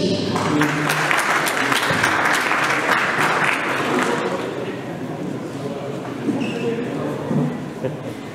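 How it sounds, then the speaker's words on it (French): Audience applause at a conference presentation on refrigerant regulations, a dense burst of clapping that fades after a few seconds while a voice speaks underneath. "Je vous demande d'applaudir M. Pierre-Emmanuel Danet."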